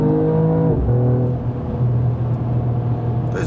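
A Mercedes E53 AMG Coupé accelerating hard to overtake a truck on the road, its engine note rising then holding a strong, steady roar close up, with no talk.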